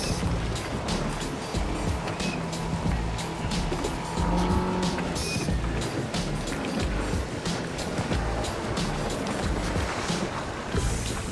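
A car driven hard at high speed, engine roaring steadily with tires squealing and skidding throughout, loud and close with no talk.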